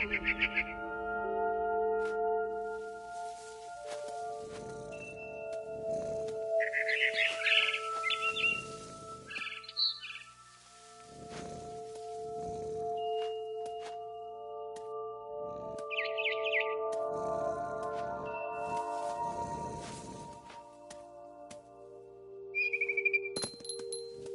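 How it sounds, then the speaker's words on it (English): A barn swallow in What Remains of Edith Finch returns to its nest, letting out short bursts of bright chirps and tweets scattered over a sustained, ringing tonal backdrop, with quiet gaps between calls. "It was a barn swallow going back to her nest."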